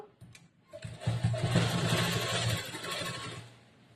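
A sewing machine stitching the side slit of a churidar runs in a steady close whirring burst of about two seconds after a few brief starts, then winds down, with no voices.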